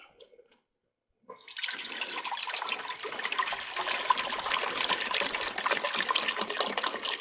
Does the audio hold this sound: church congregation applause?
no